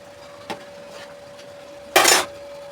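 A pot of rice set down on a home stove, a faint clink followed by a louder metallic clatter of the pot settling, with a steady electrical hum underneath.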